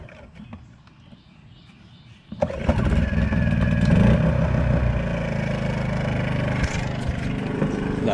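A small pull-start engine, choked for the start, catches after a quiet lead-in and settles into a loud, steady running drone close by, with a slight rise in revs partway through.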